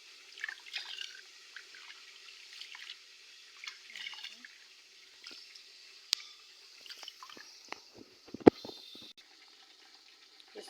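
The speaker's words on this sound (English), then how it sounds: "So I'm going to wash the rice." Rice being washed in water, with soft sloshing, swirling and trickling splashes in irregular bursts, close by, with a sharper splash near the end.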